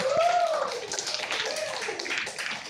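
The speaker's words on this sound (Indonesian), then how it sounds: "tepuk tangan" A sixth-grade classroom at an elementary school in Denpasar claps hands together, a moderately faint patter of many hands under a brief sung or spoken vocal tone near the start.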